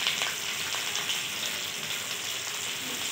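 Sliced onion and a little ginger sizzle steadily in a hot pan, a close, even hiss of frying with faint stirring, no talking.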